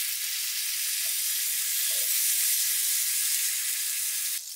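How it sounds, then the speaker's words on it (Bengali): Pointed gourd pieces frying in white oil with salt in a pan, a steady loud sizzle and hiss with a few soft stirring knocks, continuing alone without voices. "পটলগুলো একটু লবণ দিয়ে ভেজে নিব, হাফ ভেজে নিব।"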